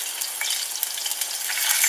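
Garlic frying in a pan while being stirred, giving a bright, steady crackling sizzle heard up close with small pops, continuous for a couple of seconds.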